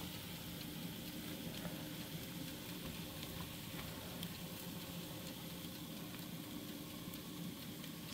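Meat patties (pârjoale) sizzle steadily inside a freshly opened oven, a dense continuous frying hiss with faint crackles and a low background hum, even and unbroken throughout.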